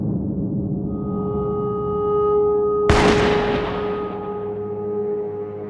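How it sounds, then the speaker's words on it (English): .22 caliber gunshot in the video game MadWorld, a single loud sharp crack that rings out and decays over a couple of seconds above a steady tonal background. "Those shots just now were .22 caliber."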